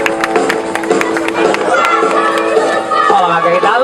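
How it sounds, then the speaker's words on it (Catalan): A theatre audience at a magic show claps for a girl called up to the stage, brisk scattered applause blending with crowd noise and a voice speaking over it. "Un aplaudiment per ella, per favor."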